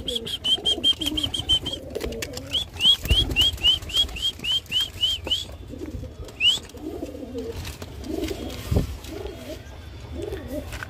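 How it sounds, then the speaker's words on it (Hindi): Pigeons being let out of their cage in a netted loft give soft cooing calls and flap their wings, with rapid high chirps and clicks, light rustling, and occasional thumps throughout. "जो कबूतर बंद है इनको बाहर निकालते हैं"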